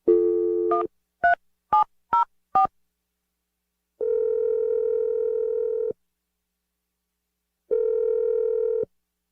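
A telephone line plays out in sequence: a short steady tone, then a quick run of five separate dialing beeps, followed by two long evenly spaced ringback tones with silence between, loud and clear with no voices.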